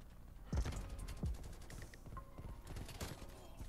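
Krig 6 assault rifle gunfire in Black Ops Cold War, rapid bursts of shots with a couple of sharp loud cracks early on, game effects and mechanical clicks in the mix.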